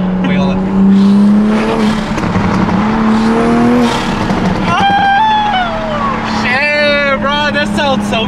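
A Toyota A90 Supra fitted with an MST intake revs loudly up close, with turbo flutter chattering between throttle blips while excited voices talk over it.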